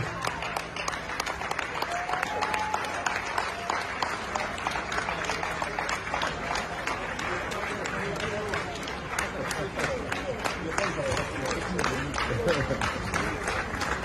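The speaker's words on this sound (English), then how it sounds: "Let's give that applause" Sustained audience applause fills an award ceremony hall honoring a lifetime achievement recipient, dense steady clapping throughout with a brief voice over it early on.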